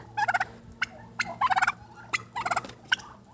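A turkey gobbles in several rapid rattling bursts, close by and fairly loud, with short pauses between calls and no talking.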